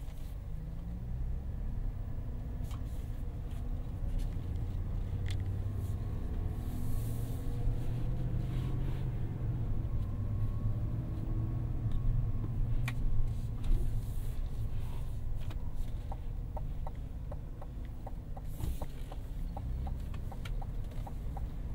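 A 2023 Chevrolet Silverado 1500 ZR2 Bison pickup drives along, heard from inside the cab as a steady, loud low rumble of engine and road noise with scattered light clicks and knocks, no talking.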